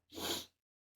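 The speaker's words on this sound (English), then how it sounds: "I gotta sneeze" A single sneeze, close and fairly loud, a short burst lasting about half a second and then silence, with no talk.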